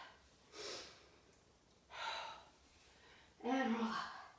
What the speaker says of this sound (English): nice big inhale